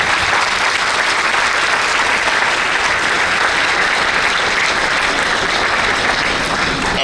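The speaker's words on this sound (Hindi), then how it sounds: "तो मैं चाहता हूं कि एक बार जोरदार तालियों से आप उनका स्वागत करें।" Loud, dense applause from the audience at a women achievers award ceremony, held at a college campus, fills the whole stretch at a steady level with no voices.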